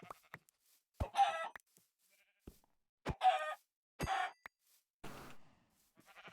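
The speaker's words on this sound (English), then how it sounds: "Okay, so I've got chickens over there." Minecraft chickens on a Skybees server make short, sharp clucks in about four separate bursts, each followed by a pause, with no talking.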